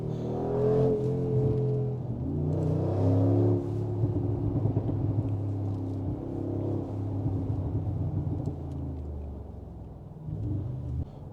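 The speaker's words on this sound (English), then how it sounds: "the pops and bangs are insane on this car" A 700 hp Brabus G-Class based on the G63 AMG rumbles deeply, its engine swelling and easing through several rev rises, loud and close with a rough, throbbing exhaust tone.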